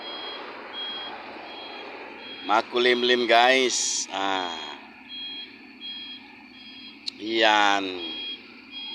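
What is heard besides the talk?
dump truck reversing beeps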